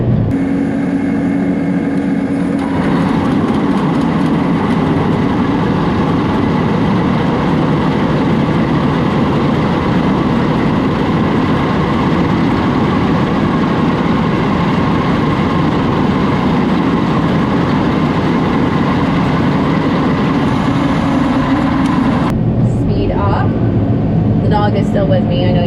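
A farm tractor running its PTO to drive a 389 sickle mower in thick orchard grass, a loud continuous engine drone with a rattling mechanical chatter that drops off near the end.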